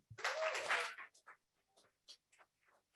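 Conference audience at a climate and clean energy summit claps for panelists, a short dense round of applause lasting about a second, followed by a few scattered faint claps.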